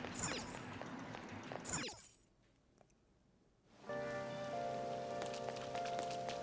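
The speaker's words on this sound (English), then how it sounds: "Oh, this rain is so annoying." Steady rain patters in Persona 5 Royal, a dense wash of drops that drops out to near silence for about two seconds before returning at full strength with light clinking game sounds layered over it.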